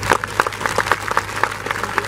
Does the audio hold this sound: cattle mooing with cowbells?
no